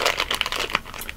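A package of Coppers chocolate espresso beans is torn open up close, making a brief, busy burst of crinkling plastic rustles with no talk.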